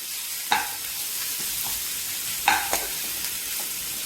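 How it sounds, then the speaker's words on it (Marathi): Grated pumpkin is stirred into hot ghee for a fasting halva, a soft continuous sizzle with two or three sharper scrapes of the spoon against the pan, close and quiet, with no talk. "आता आपण यामध्ये घालणार आहोत आपण खिसून घेतलेले काशीफळ आणि हे देखील आपण तुपामध्ये मिक्स करून घेणार आहोत."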